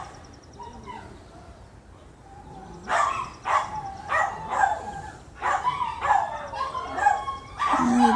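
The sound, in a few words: dogs barking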